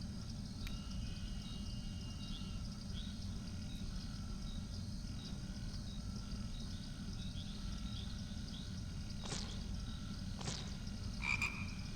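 Frogs in the video game PSI croak in a dense, continuous chorus at low volume, with a few sharper chirping calls breaking through near the end.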